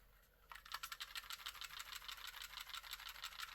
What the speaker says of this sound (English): speaking of rattling around, let's do a shake test